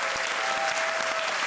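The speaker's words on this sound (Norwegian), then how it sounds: "Jeg skal få applaus for den ringen her." A studio audience at a TV competition applauds a ring, brief continuous clapping from many hands at moderate volume with a faint tone underneath.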